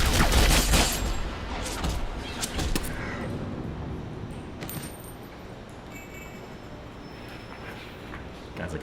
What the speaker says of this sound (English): Shooting and getting shot in the same frame.